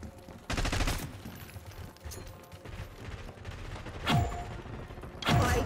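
Gunfire in the Call of Duty Black Ops 6 video game on PlayStation 5: bursts of automatic fire and sharp shots crack out at intervals amid mechanical clatter and game ambience.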